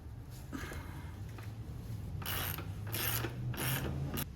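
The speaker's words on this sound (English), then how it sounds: "And back to the axle remover." An axle remover tool works the axle free on a 2022 BMW S1000 R motorcycle, producing several close bursts of ratcheting mechanical clicks over a low background hum.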